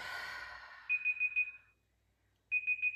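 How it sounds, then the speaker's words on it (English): A timer alarm rings in two bursts of rapid high beeps, with a short pause between them, after a soft breath fades out at the start. "And that's my timer."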